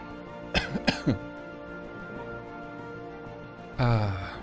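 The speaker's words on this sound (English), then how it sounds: "Excuse me, I'm about to cough." Two or three sharp coughs close by, followed after a pause by a throat-clearing hack, with steady background hum throughout, during Stellaris gameplay.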